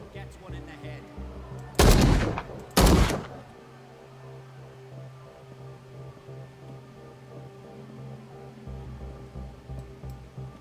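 Two loud, sharp gunshot bursts from the video game Call of Cthulhu ring out about a second apart, standing well above a low, steady bed of in-game music and ambience that carries on afterward.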